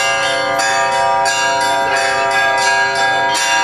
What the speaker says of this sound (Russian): Первые звуки колокола уже звучат на театральной площади.